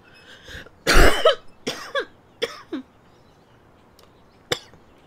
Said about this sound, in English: I had to cough again